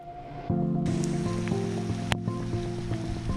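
Heavy rain falls outdoors during a horse ride, a loud, steady hiss of water that swells suddenly and then holds, with faint tonal sounds underneath.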